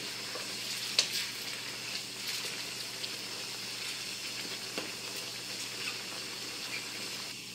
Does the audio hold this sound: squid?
yes